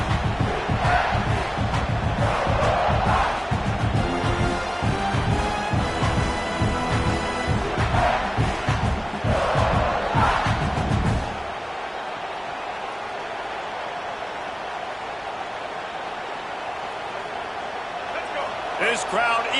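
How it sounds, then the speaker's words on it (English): Football stadium crowd roaring on second down in the red zone late in a game, a loud sustained wall of cheering under a play-by-play voice that drops to a quieter murmur partway through. "This crowd even louder now on 2nd down as they try to hold on."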